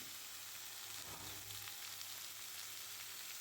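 Soft, steady sizzling of snake gourd sautéing in a hot pan, faint and continuous with occasional light crackles, no voices.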